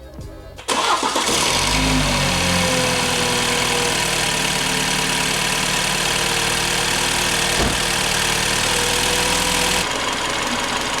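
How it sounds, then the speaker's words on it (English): A 2017 BMW F30 330i with stock airbox cranks and catches, then holds a steady idle with a rising rev, clearly heard close up and alone for about ten seconds before cutting off. "I'm just going to go ahead and start the car and give it some revs"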